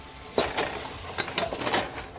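Chicken pieces tipped into a pot of boiling curry, with clattering pot contents, scraping and a soft bubbling sizzle over about two seconds, no talk.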